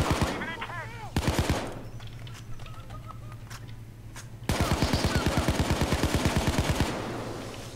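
Rapid automatic gunfire bursts in the PayDay 2 heist game, loud and close, with a short burst, a quieter pause, then a long sustained rattling stream that fades at the end.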